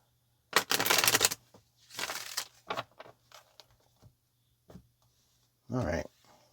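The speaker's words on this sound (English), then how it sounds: "Let's get one more shuffle." A deck of tarot cards being shuffled during a reading, with a long riffle burst at the start, a few shorter shuffling flutters and taps, and a final quick riffle near the end, fairly close and clear.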